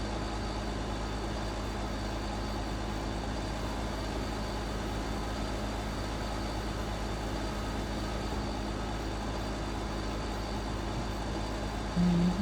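A truck in a video game drives with a steady, low engine rumble that holds unchanged throughout, fairly loud and continuous, with no talk over it.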